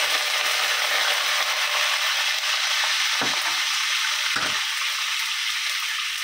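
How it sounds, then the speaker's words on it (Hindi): Curry leaves and fenugreek seeds fry in about two spoonfuls of hot oil, giving a continuous, loud, hissing sizzle with a couple of brief sputtering bursts, with no voices over it. "अभी पूरा करी पत्ता डालेंगे,"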